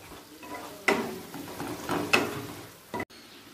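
Turmeric and Kashmiri red chili powder are stirred into pabda fish frying with tomato in a pan. A soft, quiet sizzle runs under a few distinct scraping strokes of the spoon.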